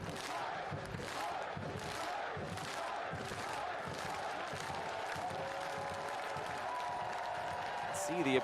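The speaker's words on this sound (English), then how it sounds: "See the appreciation from the players clapping as well." At a Portland Hearts of Pine versus New York Cosmos USL soccer match, the crowd and players clap in a steady rhythmic beat, heard at a moderate distance over a low stadium murmur.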